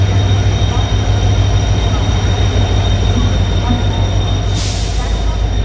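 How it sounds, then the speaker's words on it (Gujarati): The Veraval-Banaras superfast train arriving at a platform gives off a constant heavy low rumble and drone from start to finish, with a burst of high hiss near the end. "આ છે આપણી ટ્રેન. તો જો બેસ્ટ છે તમારા માટે આ ટ્રેન આવી ગઈ છે આપણી."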